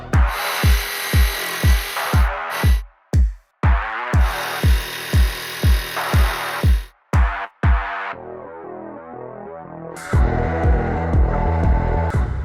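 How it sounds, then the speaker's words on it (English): Jigsaw rough cutting through wood, loud and close, with rapid pulsing bursts that stop and restart several times before a steadier whining stretch at the end. "Didn't think the jigsaw was up for it, but there you go."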